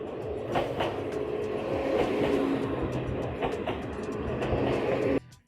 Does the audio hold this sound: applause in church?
no